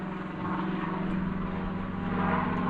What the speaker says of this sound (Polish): prywatny helikopter